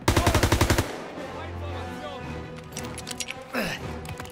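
A rapid, loud burst of machine gun fire in the World War II shooter Call of Duty: WWII, a tight string of close shots that cuts off, followed by softer battle noise and a voice talking.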